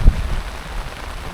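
Rain pours down in a village setting, a dense continuous wash of noise with a brief low bump at the outset, no talk.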